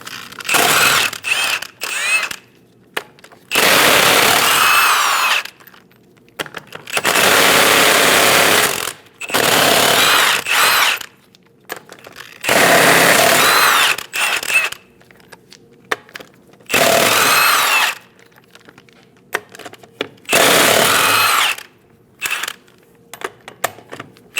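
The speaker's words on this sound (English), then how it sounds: "Using a 22mm socket, remove all 8 lug nuts." A power impact tool with a 22mm socket spins off the rear wheel lug nuts of a 2001-2006 Chevrolet Silverado 2500 HD, loud, close rattling bursts of hammering that repeat several times with quiet gaps between.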